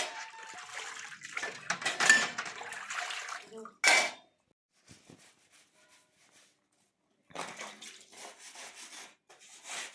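Dishes clatter and rub under running water, with a sharp clank midway, a quiet pause, then more washing.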